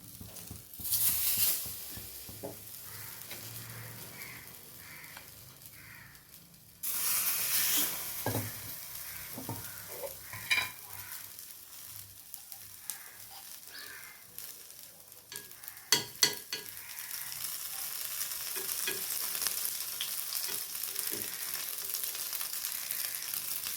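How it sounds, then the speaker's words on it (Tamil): Bread and two eggs fry in ghee over low heat, sizzling steadily under intermittent stirring, scraping and clinks from a utensil, with a few sharp louder bursts partway through. "நல்லா ஒரு ப்ரெட்டு போட்டு 2 முட்டை போட்டாலும் போதும்"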